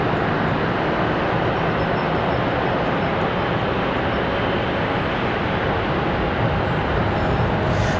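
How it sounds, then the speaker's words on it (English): A Lufthansa Airbus A350 arriving from Munich at Charlotte Douglas airport, a loud, steady broadband jet roar holding throughout with no talk. "enjoy the Lufthansa A350 arrival"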